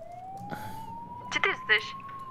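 A police car siren from the game ARMA III Altis Life wails in one steady rising tone, faint and distant, while a few brief clicks and bumps sound closer in the foreground.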